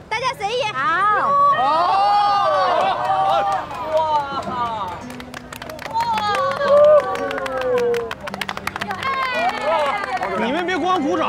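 Guests at a banquet dinner table clap in a brief burst amid lively overlapping talk and cheering, the room loud and busy throughout.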